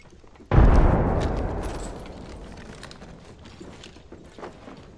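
Grenade blast in the video game Apex Legends, a sudden sharp boom that rings out and slowly decays over a few seconds, followed by scattered faint footsteps and rustling.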